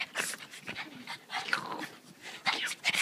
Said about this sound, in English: That dog's gonna tear Punky up